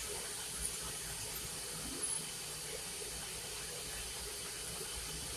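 A glassblowing torch fed with propane and oxygen roars as a steady, even hiss, constant and moderately quiet throughout with no pauses.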